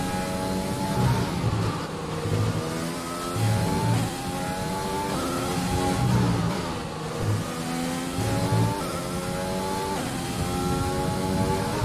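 A Formula 1 race car in the F1 2020 video game running a qualifying lap in Russia, its engine revving up and down steadily through gear changes, loud and continuous without any talk.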